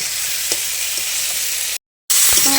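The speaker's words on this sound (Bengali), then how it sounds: "এবার একটা এঁচোড় আর আলু ঢেলে দেবো, দিয়ে কিছু সময় আরও কষবো" Jackfruit and potato frying with spices in hot oil for a jackfruit curry, a loud continuous close sizzle with light stirring scrapes and a momentary cut of silence.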